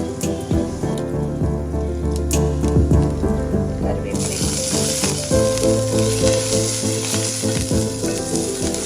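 Cumin seeds and dried red chilies sizzle in hot oil in a pan, a steady close frying crackle with sharper pops, brightening partway through as more goes in, with no talking.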